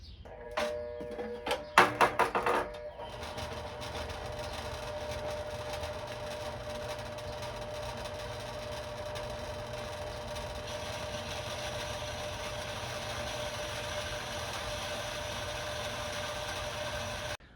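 A pipe-cutting machine set to its faster speed runs steadily at a near, constant level, droning on after a few sharp clattering knocks at the start, with no talking.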